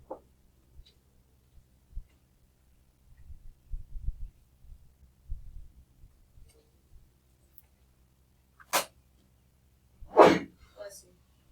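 A single sharp sneeze near the end of a quiet math lecture on the law of cosines, preceded by a brief earlier burst and soft low rumbles and shuffling in the room.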